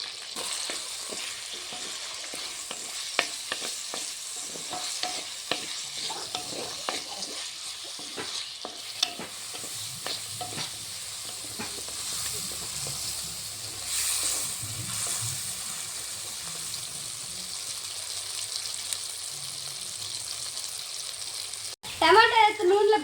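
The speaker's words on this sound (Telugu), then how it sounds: "టమాటా నూనెలో బాగా ఉడికిపోయినాయి." Tomatoes, curry leaves, garlic and cumin fry in oil in a pan for tomato pachadi, with a continuous soft sizzle broken by scraping stirs and clinks, ending in a louder clatter.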